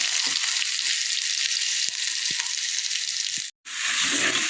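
Crushed shallots and spices sautéing in a pan for a traditional rasam make a loud, steady, close sizzle with a few faint stirring knocks, broken by a brief silent gap near the end.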